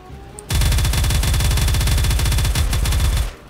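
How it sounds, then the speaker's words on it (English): A rapid-fire gun sprays nonstop in the Roblox game Harbor Havoc, with a loud, steady machine-gun rattle that starts abruptly, holds for about three seconds with a brief stutter, and then cuts off. "Compared to the other gun, this one just sprays."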